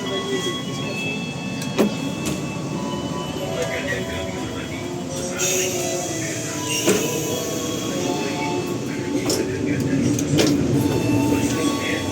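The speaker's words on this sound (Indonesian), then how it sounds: "Oke, sekarang kita udah ada di dalam kereta api Majapahit." Inside a moving Majapahit economy passenger train hauled by a CC203 locomotive, a constant rolling rumble and rattle fills the carriage, with occasional clanks and a voice talking over it.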